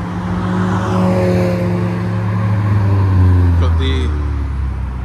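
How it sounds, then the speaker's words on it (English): A dark purple Mazda MX-5 pulls away from a Japanese car meet in Reading, its engine humming and rising briefly as it moves off nearby, under a voice. "kind of dark majestic purple MX-5 leaving now"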